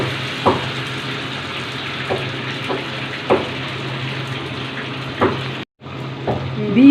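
Ghevar batter poured from a height into hot oil in a saucepan, a steady loud sizzle and bubbling with occasional splashy pops as more batter hits the oil.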